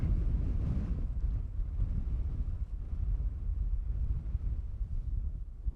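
Steady gusty wind roars across an open outdoor spot beside Amsterdam Schiphol airport's runway 18R on a mild day with a southwest crosswind, a continuous low rumbling buffet of the microphone with no speech.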